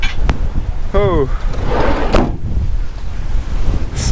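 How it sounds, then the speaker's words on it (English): Strong outdoor wind buffeting the microphone in gusty bursts of rushing noise, with a brief human voice and scattered clatter in between. "so windy today."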